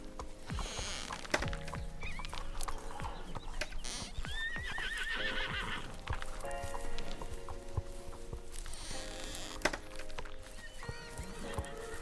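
Horses in the Star Stable video game whinny repeatedly over a steady bed of hoof clip-clop and ambient game sound, with louder neighs rising at intervals through the twelve seconds.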